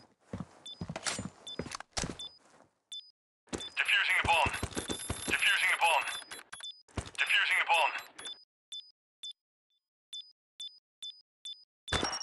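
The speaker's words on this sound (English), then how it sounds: "Defusing the bomb." Bomb defusal in the Critical Ops shooter game, with rapid electronic beeps repeating in regular bursts, scuffling footsteps and clattering thunks, and bursts of game voice and chatter over twelve seconds.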